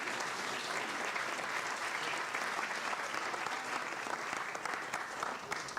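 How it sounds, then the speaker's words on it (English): Steady, dense applause from an annual meeting audience honoring a long-serving nursing staff supporter, a continuous wash of many hands clapping at moderate volume for several seconds. "He deserves a round of applause for that."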